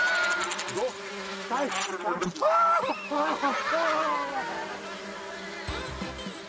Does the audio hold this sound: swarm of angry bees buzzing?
yes